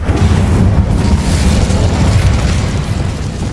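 Incendio fire spell blasting in Hogwarts Legacy, a loud, sustained rumbling whoosh of flame with deep boom that holds steady before easing slightly, no speech over it.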